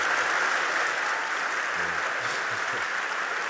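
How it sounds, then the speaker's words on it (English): An audience at the Cannes Lions festival applauds after an onstage talk, a thick, continuous burst of clapping held at a steady level with faint voices underneath. "Mark and Elon, one more round of applause."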